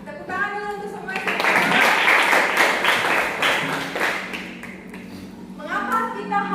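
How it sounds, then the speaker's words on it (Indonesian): Schoolchildren in a classroom clap their hands together in a burst of applause lasting a few seconds, with voices speaking before and after it. "Ya, tepuk tangan dulu untuk semuanya"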